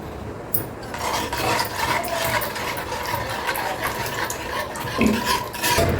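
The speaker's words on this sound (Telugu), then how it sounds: "ఈ కస్టర్డ్ పౌడర్స్ కలుపుకున్నాం కదా పాలు ఇది కూడా ఇందులో వేస్తూ కలపండి" Custard powder being stirred into milk in a pan for homemade kulfi gives a steady scraping and swirling of a spoon against the metal, close and continuous, with occasional louder clinks.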